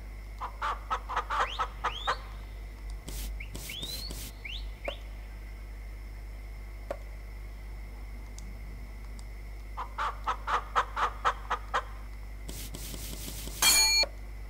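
Farm-game chickens in Ma Ferme 2018 on Switch cluck in quick bursts of short, sharp calls, clustered at the start and again near the end, over a low, steady hum, with near-silent gaps between the bursts.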